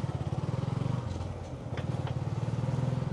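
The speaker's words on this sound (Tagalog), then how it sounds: "Mga motor dito guys, ano yun, pumapasada yun." Motorcycles ride along a village road near a river in Pagsanjan, Laguna, their engines chugging steadily up close with a brief dip in the middle and light clatter.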